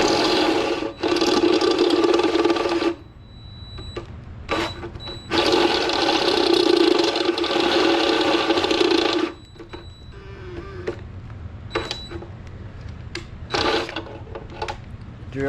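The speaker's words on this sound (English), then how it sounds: "Drill's having trouble here." A power drill bores a hole into a Honda Civic D16Y7 engine's metal oil pan in loud, whining bursts, two long runs and several short stabs separated by quieter pauses as the bit catches and struggles.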